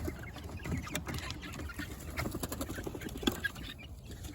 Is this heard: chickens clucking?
yes